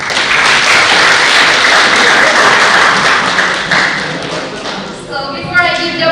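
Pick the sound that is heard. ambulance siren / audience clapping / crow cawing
audience clapping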